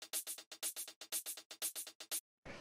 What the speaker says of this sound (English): So for the hi-hat, I just have this sample.